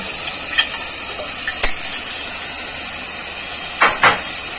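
Fried capsicum and onion going into spiced oil in a pan for capci dhud paneer, with soft steady sizzling and hissing behind a few scraping stirs and light utensil clinks.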